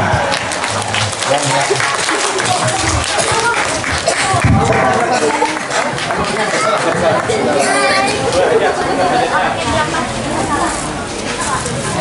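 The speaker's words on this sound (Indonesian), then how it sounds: "Berikan tepuk tangan." A large gathering at a Maulid Nabi religious lecture bursts into sustained, loud applause that fills the whole stretch. Crowd chatter and voices run underneath the clapping.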